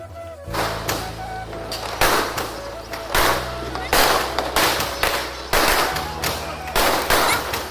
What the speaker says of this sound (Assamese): আৰু ইয়াৰ ওপৰত ফটকা ফুটাইছে।